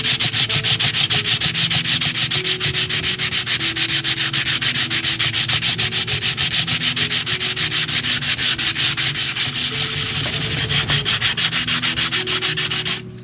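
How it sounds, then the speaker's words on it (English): Steady rhythmic back-and-forth sanding of a wooden hull for a 1:400 scale model of the S.S. Edmund Fitzgerald, loud, close and continuous with fast even strokes throughout. "we're going to need to sand it down"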